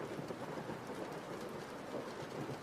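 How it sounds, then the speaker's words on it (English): Steady rain ambience with a dense, even wash of falling drops, loud and continuous throughout, with a faint low rumble suggesting distant thunder; no talking. "Is the rain still too loud? Hold on, let me turn the rain down a little bit."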